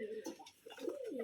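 Pigeons coo from a tree at a loft farm in Rajshahi, producing close, soft rolling coos that rise and fall in two short phrases with a brief pause between them.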